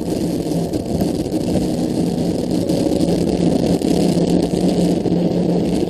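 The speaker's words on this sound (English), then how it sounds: "Ignition. Liftoff of Falcon 9." Falcon 9 rocket liftoff on the Iridium 8 launch: a steady, loud, broadband roar and rumble that holds evenly throughout, with a low tonal hum underneath and no voices.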